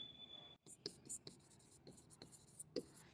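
Chalk or a marker taps and scratches across a classroom board during a physics lesson on plane mirrors. The marks come in short, irregular, faint strokes while a teacher speaks quietly over them.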